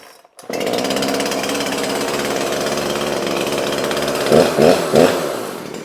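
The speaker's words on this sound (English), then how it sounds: "I've never ever had a problem with this chainsaw starting up" A Poulan Pro PR5020 50cc chainsaw with a 20-inch bar starts on the first pull and settles into a loud, steady idle at close range, then revs up briefly three times near the end.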